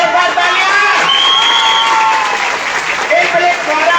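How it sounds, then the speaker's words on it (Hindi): Loud, close applause from an audience at a DXN program event, vigorous clapping mixed with some cheering and crowd noise, steady throughout the short burst with no break. "और डीएक्शन के लिए जोरदार तालियां"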